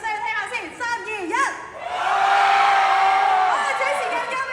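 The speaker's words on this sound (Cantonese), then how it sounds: "一齊俾尖叫聲聽下先" Concert crowd at an outdoor mall show in Tsim Sha Tsui, first giving scattered shouts and whoops, then breaking into a loud sustained mass of screaming that fades slightly near the end.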